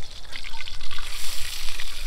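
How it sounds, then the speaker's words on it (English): A loud, steady sizzle and crackle of fish frying in a hot pan, heard close up with no talking. "Fish frying."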